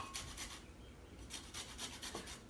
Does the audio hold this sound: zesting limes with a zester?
yes